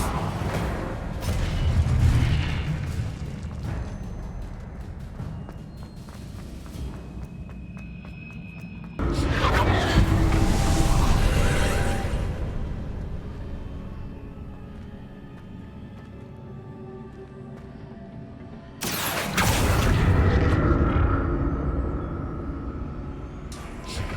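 Confringo blasting spells in Hogwarts Legacy, three loud bursts each erupting suddenly and fading into a long rumbling decay, with no talk.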